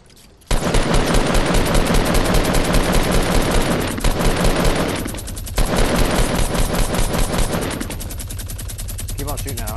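Sustained rapid automatic gunfire in a multiplayer shooter video game, loud and dense with continuous bursts and brief pauses, heavy rattling shots throughout, with players' voices faintly mixed underneath.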